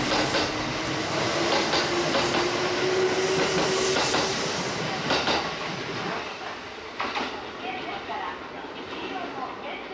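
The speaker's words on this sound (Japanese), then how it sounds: "6641列車、大和朝倉駅、区間準急です。" Kintetsu section semi-express train 6641 bound for Yamato-Asakura rumbles through Tsuruhashi Station, a steady loud rolling roar with a faint squeal early on, easing and quieter in the second half.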